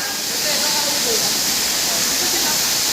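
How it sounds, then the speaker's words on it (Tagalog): A steady, loud rush of water falling at Indamg Falls fills the scene with broad hissing noise, with a voice faintly underneath. "rinig na rinig mo na yung um, ingay ng tubig no mula dyan sa falls"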